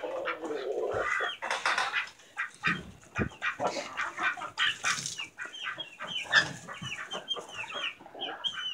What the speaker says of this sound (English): Got the baby chickens water filled.